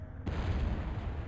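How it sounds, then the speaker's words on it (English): A deep explosion boom rumbles in the Dreamcast game Skies of Arcadia, bursting in suddenly after a brief quiet and rolling on as a loud, sustained low roar. "It was an explosion off the port bow."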